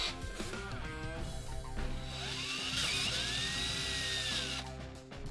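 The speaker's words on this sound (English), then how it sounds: "let's go ahead and open up some of these holes" A drill enlarges mounting holes in the front end of a Toyota Tundra during a coilover install, its steady close whine rising and falling in pitch as the bit bites through metal.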